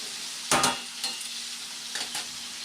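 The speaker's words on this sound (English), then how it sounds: "I'm just going to brown these up. Brown them up nicely." Boneless country-style beef ribs browning in a pan give a steady bright sizzle, broken by a few louder bursts of spatter or scraping as they are turned, with no talking.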